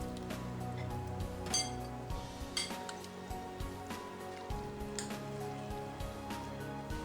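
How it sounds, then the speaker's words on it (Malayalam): Mutton being mixed by hand into a masala and onion base in a bowl: scattered clinks and soft stirring squelches over a steady low kitchen hum, fairly close, with no one talking. "നല്ലതുപോലെ മിക്സ് ചെയ്ത ശേഷം ഇതിലേക്ക് ഈ മട്ടൺ മിക്സ് ചെയ്ത് കൊടുക്കാം."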